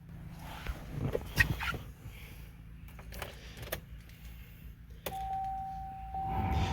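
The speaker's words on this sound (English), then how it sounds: "So you hear the chimes." Warning chimes from a 2011 GMC Acadia at startup with an aftermarket AXDIS interface module and Android head unit fitted, a few bright tones and a steady sustained tone over faint cabin noises, fairly quiet.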